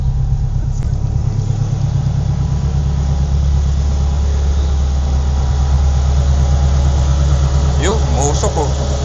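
A Mitsubishi Lancer engine idles steadily and close, a deep continuous rumble with a faint whine, while the motor is still warming up; brief higher squeaks and voices surface near the end.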